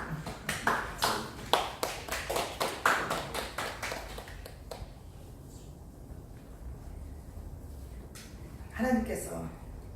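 Congregation clapping in a church service, a burst of sharp, uneven claps that fades within a few seconds, followed by quiet with a voice briefly speaking near the end.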